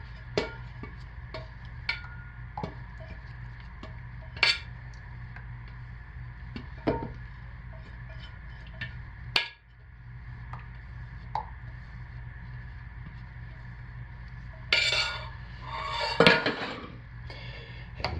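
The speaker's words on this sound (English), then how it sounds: "I will scrape the remnant out of this pot so it doesn't go to waste." A utensil scraping leftover cold process soap batter out of a pot, heard as scattered light clinks and scrapes at close range over a steady low background hum, with a busier cluster of scraping near the end.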